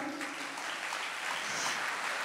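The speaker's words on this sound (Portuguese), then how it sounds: "pode aplaudir então" A crowd applauds at a celebration of a couple's love story, a soft, steady patter of many hands clapping throughout, somewhat distant and fairly quiet.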